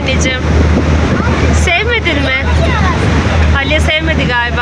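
Ferry ride with steady wind buffeting the microphone and waves washing below, a continuous loud roar throughout, with several people talking over it.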